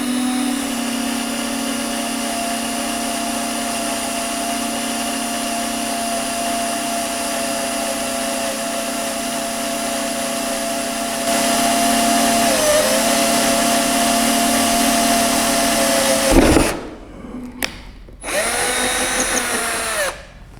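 A Bosch GSR 120 Li 12V cordless drill whirs at a steady high pitch while boring into a wooden board, the motor strain shifting partway, then stopping and restarting in short bursts near the end.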